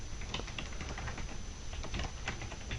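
Quick, light clicking of a computer keyboard as a name is typed, close and fairly quiet, in an irregular run of keystrokes with no talking.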